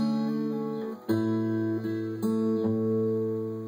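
Fingerpicked acoustic guitar notes ring out clearly, a few plucked tones and bass notes sounding in a slow, smooth pattern with no voices.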